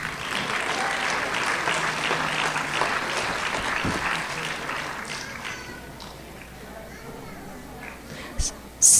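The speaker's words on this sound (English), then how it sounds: "join me in a final round of applause for all our Governor's Educator of the Year recipients" A school board meeting audience applauds award-winning educators, a sustained burst of clapping that tapers off and gives way to quieter room noise near the end.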